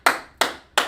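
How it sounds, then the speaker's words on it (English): Three sharp, evenly spaced claps ring out close by, each a crisp snap with a short decay. "Clap it up for him, okay?"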